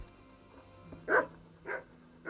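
A dog in the medieval video game Kingdom Come: Deliverance barks three times at a moderate distance, with short single barks spaced about half a second apart over a quiet game ambience.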